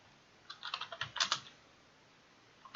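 Typing on a computer keyboard in Unreal Engine, a short burst of about a dozen quick, close key clicks within a second, then quiet with a couple of faint taps at the end.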